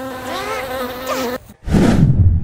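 Loud, close insect buzzing with a steady droning whine that wavers in pitch, cut off by a short gap, then a denser, lower buzzing swarm sound returning at full strength.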